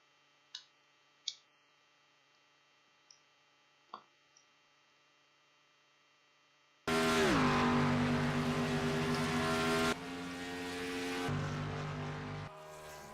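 Race cars on an oval track at a Friday night event: a few faint clicks, then a loud engine roar sweeps in abruptly and holds as cars pass, its pitch dropping, then easing to a steady lower drone.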